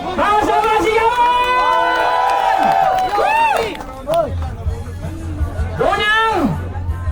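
A large crowd at a cash prize draw near a pier shouts and cheers in loud overlapping bursts of whoops and yells, dipping into murmuring chatter between swells.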